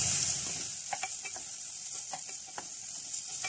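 Boiled potatoes and onion fry in hot oil for a samosa filling, giving a loud, steady, bright sizzle. Several soft spatula scrapes are heard close by, and there is no talking.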